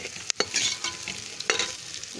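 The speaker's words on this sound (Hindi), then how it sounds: "हम इसमें डालेंगे लहसुन अदरक डालेंगे" Garlic and ginger frying with browned onions in a pan for beef korma: a steady crackling sizzle broken by a few sharp scrapes of a spoon stirring, close and fairly quiet, with no talking.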